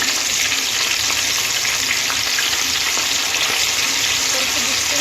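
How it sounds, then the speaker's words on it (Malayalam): Kerala-style fish frying in hot oil with home-grown curry leaves, a dense, steady, loud sizzle and crackle that holds throughout at close range. "അപ്പോൾ ചൂടായിട്ടുണ്ട് എണ്ണ. നമുക്കതിലേക്ക് ഓരോ ഫിഷായിട്ട്"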